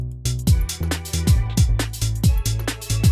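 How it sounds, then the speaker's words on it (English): Clubby analog synth bass line built from two square waves, pumping hard under a sidechained kick, with punchy repeating notes and gliding pitch drops on each beat, loud and upfront with no voices. "Super clubby, super dance floor bass line, right?"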